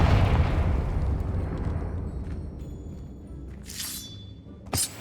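Confringo blasting spell from Hogwarts Legacy on PS5, a loud deep boom that rumbles away over a few seconds, followed by a short sharp crack near the end, with no talk.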